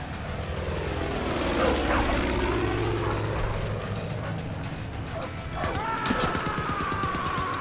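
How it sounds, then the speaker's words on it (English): A propeller plane engine in the Far Cry 5 video game drones loudly and continuously, its pitch sweeping as the aircraft passes, with sharp gunshot-like cracks near the end. "he's shooting at the plane"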